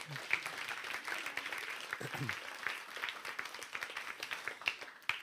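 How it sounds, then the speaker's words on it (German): A church congregation claps during a German confirmation service, a dense, steady round of applause from a crowd filling the room, with a few brief voices and a low murmur underneath. "Ein Applaus"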